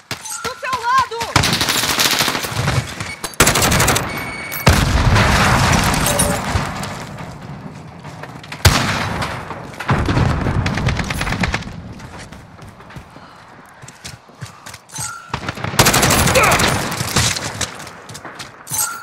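Machine-gun and rifle fire from the shooter Call of Duty: Modern Warfare come in loud, dense bursts separated by brief lulls, with rapid automatic volleys and occasional booms, and voices shouting over the fighting.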